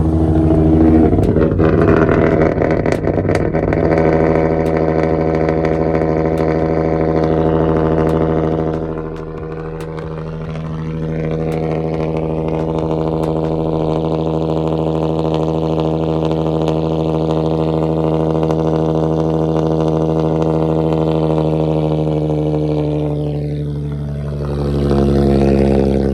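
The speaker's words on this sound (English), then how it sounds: "Cold start" An Infiniti car engine cold starts close by, catching quickly and settling into a steady, loud idle with a faint dip and recovery partway through; no one speaks.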